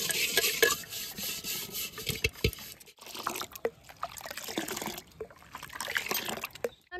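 Sour curd being stirred by hand inside a clay pot, giving soft wet scraping and sloshing strokes in an uneven rhythm, close and fairly quiet, with no talking.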